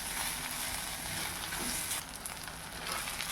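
Chopped banana flower sautés in a pan for chutney, a soft continuous sizzle and crackle, close and fairly quiet, easing slightly partway through.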